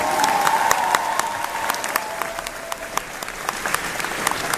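Studio audience at a French television talk show breaks into sustained applause, many hands clapping steadily and close, with crowd noise underneath and no talk over it.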